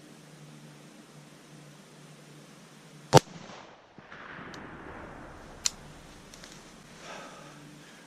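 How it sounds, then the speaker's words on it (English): A single sharp rifle shot fired one-handed from a FieldPod rest outdoors while hunting, a loud crack followed by a fainter second snap over a low steady hum. "I made that shot one hand on the rifle with this FieldPod"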